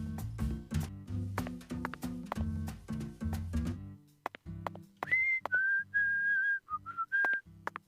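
A Deadly Premonition 2 video game character whistles a melody, clear sustained tones following a rhythmic instrumental passage in the first half.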